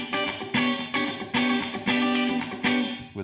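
Funk guitar chords played through a Mooer Black Truck pedal with its compressor off, heard as short, bright, dynamic strums in a loose rhythm, each attack loud and then decaying, with no voice over them.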